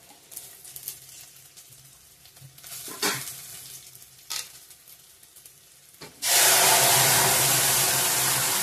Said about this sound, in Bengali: কাঁচা লঙ্কা দুটো দিয়ে দিলাম। হয়ে গেছে ফোড়নটা ভালো করে ভাজা ভাজা।